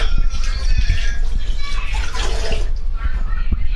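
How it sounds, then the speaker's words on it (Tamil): Water is poured into a simmering mutton masala of about 1.5 kg, making a continuous close rushing splash with low bubbling underneath that carries on unbroken. "சும்மா அந்த மசாலாக்காக தண்ணி மட்டும் தண்ணி இதில் சேர்க்குறேன்"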